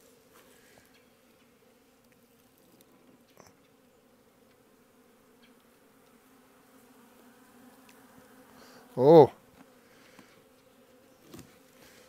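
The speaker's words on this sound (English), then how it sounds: "Still plenty of live bees in there." Faint, steady buzzing of live bees in a hive with a brief, louder buzz of a bee flying close by; a voice briefly exclaims.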